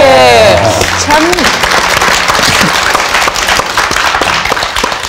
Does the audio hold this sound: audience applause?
yes